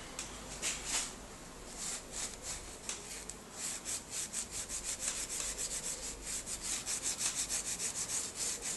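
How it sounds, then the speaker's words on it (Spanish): An abrasive sponge scrubs an engine cylinder head cover, making quick, rhythmic rasping strokes that speed up and grow steadier toward the end, close and soft, with no voices. "Usamos una esponja abrasiva"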